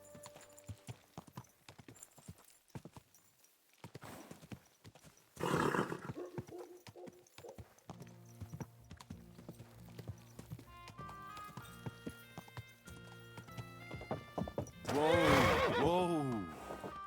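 Horse hooves clop in a steady rhythm over a long stretch in Kingdom Come: Deliverance II, with voices talking and a horse whinnying loudly near the end.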